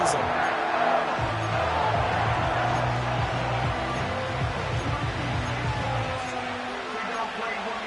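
Stadium crowd in a Madden football video game roars steadily throughout, a dense continuous wash of cheering under and around a game commentator's speech.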